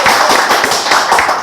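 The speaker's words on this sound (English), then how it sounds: "ladies and gentlemen, can we clap again for DIZY?" Audience clapping at an entrepreneurship event, dense steady applause of many hands, close and loud, brief, no talk.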